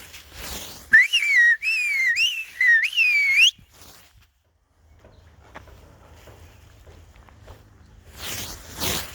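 A person whistles to keep pigeons in the air, a rapid series of rising, looping chirps, loud and close, then falls quiet with faint rustling before another brief burst.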